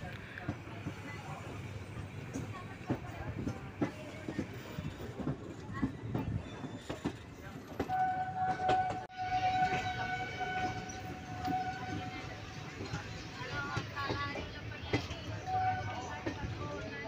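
A train rumbles and clatters steadily along the tracks, with a drawn-out horn-like tone sounding midway and faint talk in the background.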